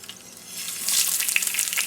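Mustard seeds and two red chilies splutter in hot oil for sambhar, a steady close sizzle that grows louder after about a second with scattered sharp pops and no talk.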